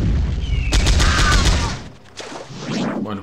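Enemy fire in the video game Powerslave Exhumed on PS5: a dense burst of loud, booming shots and impacts, followed by a quieter trailing whoosh of a projectile passing close by.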